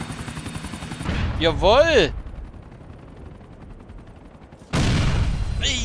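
Bursts of gunfire in Grand Theft Auto IV with a helicopter nearby, loud clusters of shots around a whining tonal sweep, then a quieter gap and another loud burst, with a short shout in between.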